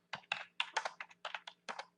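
Rapid bursts of typing on a computer keyboard, clustered keystrokes in short groups with brief pauses, close and fairly quiet with no voices.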